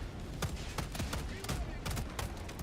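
Rocket kit turrets fire in the Helldivers video game, a faint series of sharp, irregular shots and bursts with a low rumble of battle underneath.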